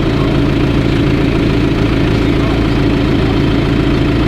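A classic John Deere tractor engine runs steadily and loudly at idle, a continuous close-up rumble that stays constant throughout with no talking.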